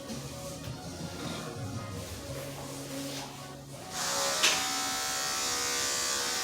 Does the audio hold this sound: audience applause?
no